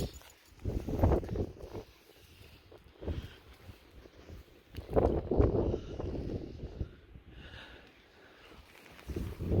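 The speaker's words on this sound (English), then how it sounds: "Really windy today." Strong wind gusts buffet the microphone in rumbling bursts that rise and fall, with no speech.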